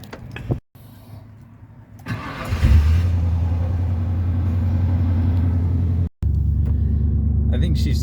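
A pickup truck engine cranks and catches, then settles into a steady, loud low rumble at idle, cut by a brief dropout. A person talks over the running engine.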